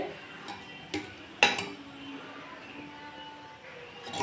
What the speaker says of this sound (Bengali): আমি এটার মধ্যে 2খানা ডিম অ্যাড করে ভালো করে এর সাথে নেড়ে নিচ্ছি